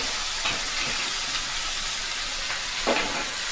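Ash gourd pieces and lentil dumplings (bori) sizzle in hot oil in a pan, a steady broadband hiss with a few faint clinks of a utensil.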